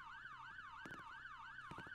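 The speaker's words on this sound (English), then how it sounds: "I still hear the police sirens" A wailing police siren in the Roblox game Brookhaven sweeps up and down steadily throughout, loud and close, with a few sharp clattering hits breaking in near the middle and end.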